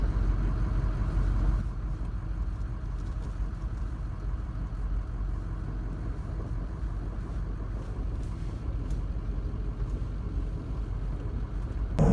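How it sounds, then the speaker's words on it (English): A steady low engine rumble with wind buffeting, like a small tractor driving along, continuous and fairly close with no talking. "Here's the view from the tractor as we go down the driveway."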